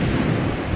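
Ocean waves of an incoming tide wash onto the beach at Hemsby, Norfolk, a loud, steady surf roar with wind buffeting the microphone and no break in the sound.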